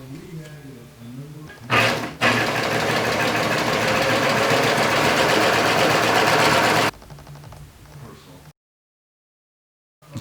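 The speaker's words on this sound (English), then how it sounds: "we'll just use the serger to finish the edges of the fabric" A serger finishes raw fabric edges in one loud, steady, rapid mechanical whirr of about five seconds, starting after a brief burst and ending abruptly, with talk before and after.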